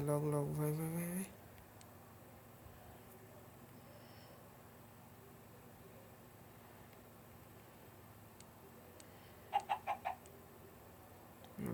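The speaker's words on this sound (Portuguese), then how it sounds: "Uma galinha lá, gritando." A Minecraft chicken gives a quick burst of clucks near the end, brief and fairly faint over a low steady hiss, after someone speaks at the very start.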